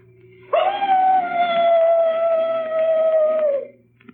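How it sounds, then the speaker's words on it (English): A single mournful dog howl used as a standard ghost-story sound effect, loud and close, rising at once, holding one long sustained wailing tone for about three seconds, then fading, with no talk over it. "The mournful howl of a dog."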